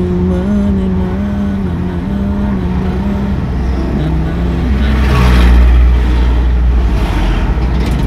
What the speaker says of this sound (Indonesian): Kendaraan yang berlalu lalang di sore hari ini lumayan banyak, dari roda 4 sampai roda 3